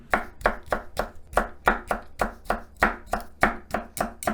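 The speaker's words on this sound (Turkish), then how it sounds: "Şimdi doğramaya başlayabilirim. Hemen şöyle kesikler atıyorum." A knife chops peppers rapidly on a cutting board for menemen, about three crisp strikes per second in an even, steady rhythm, close and distinct.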